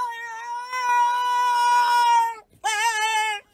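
A dog producing strange, drawn-out cat-like yowls, one long wavering cry followed after a brief gap by a second shorter one, loud and close.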